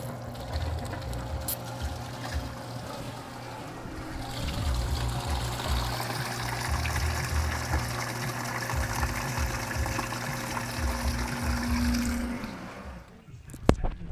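A sump pump sits in a bucket of distilled water, back-flushing it through a car's heater cores by hose. It gives a steady, moderately quiet churning and sloshing of water that swells midway, then cuts off with a few clunks.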